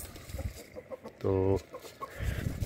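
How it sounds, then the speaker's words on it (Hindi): Chickens, including a large rooster, cluck in short bursts after being fed millet, and one gives a single loud, drawn-out call in the middle. Low voices murmur in the background. "ये सबसे बड़ा मुर्गा है हमारा, इसका नाम हमने राजू रखा हुआ है।"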